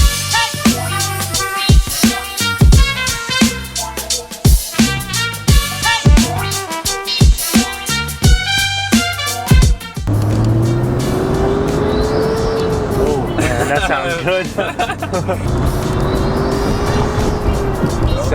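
A Nissan R32 Skyline GTR first gives a rhythmic mechanical clatter, then its engine settles into a loud, steady drone with rising and falling revs as it drives, close by, with a brief word spoken.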